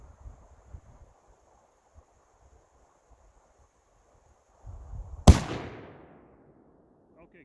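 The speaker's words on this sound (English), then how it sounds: "I'm going to take another shot." A single sharp crack from a Thompson Center Compass II .223 bolt-action rifle fired outdoors, loud and abrupt with a brief trailing decay, preceded by quiet wind and faint rustling.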